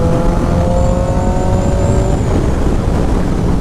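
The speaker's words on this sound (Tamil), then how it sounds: "4000 RPMக்கு மேலே போகும்போது தான் வண்டியில் அந்த பவரே தெரியுது." A Honda CBR 650R motorcycle engine revs hard past 4000 RPM, a loud continuous high-pitched drone with a climbing tone under steady wind rush, close and without pause.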